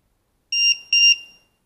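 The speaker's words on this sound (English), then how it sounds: "just plug it in, it will beep." Low-voltage alarm on a Walkera QR X350 Pro battery, an 11.1 V pack, sounding two loud, shrill electronic beeps in quick succession as it is plugged in, close and alone.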